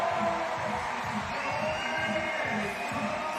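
A crowd at the Innsbruck 2025 lead climbing semi-finals cheers for climber Janja Garnbret, a steady, loud roar of whoops and shouts sustained throughout.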